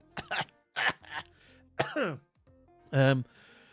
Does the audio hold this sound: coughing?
yes